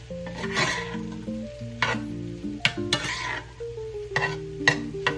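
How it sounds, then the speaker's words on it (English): Eggs frying in a cast iron skillet, stirred with repeated scraping strokes over a soft sizzle; the scrapes come in irregular bursts, close and fairly loud, against steady tonal background music. "You will have to stir a little bit more frequently with the eggs"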